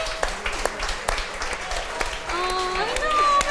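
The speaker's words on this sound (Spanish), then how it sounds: "Dejamos con la repetición de este aplauso espontáneo que nos tiene tan emocionados" Spontaneous applause from a crowd at a student protest over public higher-education funding, a steady mass of clapping with cheers and raised voices mixed in, growing livelier toward the end.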